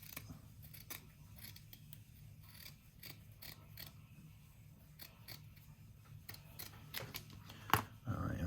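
Scissors trim a piece of burlap for a boho-style journal, giving a series of close, crisp snips spaced unevenly at a soft level.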